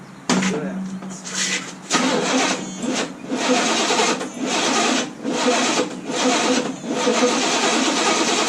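A third-gen Pontiac Trans Am engine cranks in repeated rough, grinding bursts with brief gaps between them, loud and close, its starter labouring without clearly catching.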